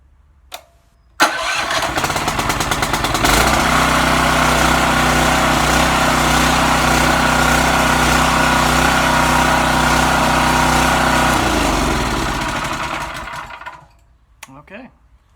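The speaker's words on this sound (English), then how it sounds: "And let's see how she works on electric start." A Michigan Carroll Stream 6.5 hp 196cc go-kart engine is cranked by its electric starter after a click, catches and runs at a loud, steady close-up chug for about ten seconds before shutting down and spinning to a stop.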